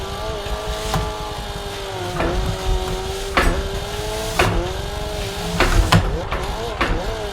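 Engine of a low-power drift car in the Assetto Corsa racing game, revving up and down with repeated throttle blips and brief tire squeals over a steady drone while someone talks throughout.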